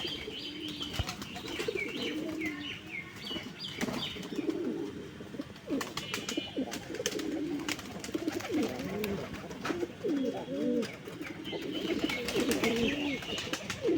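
Pigeons at a pigeon farm coo steadily in soft, throaty bursts, with chirps and occasional wing flaps close by, some faint voices in the background.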